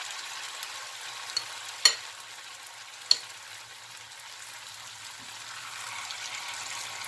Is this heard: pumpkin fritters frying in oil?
yes